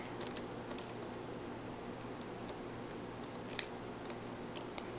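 Tiny, faint metallic clicks from pins inside a Commando Peacemaker padlock as it is picked, a few sparse ticks over low background hiss.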